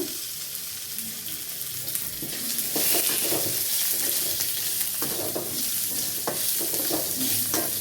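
Ridge gourd peel sizzles and crackles as it is sautéed in a pan with browned lentils, with close stirring scrapes and a steady frying hiss.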